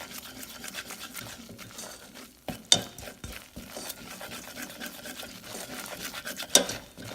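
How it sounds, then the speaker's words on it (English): Flour cooking in butter for a mac and cheese roux is stirred in a pan with a soft, continuous scraping rhythm, broken by two sharp metallic clinks, with no voices. "You have to let the flour cook a little bit,"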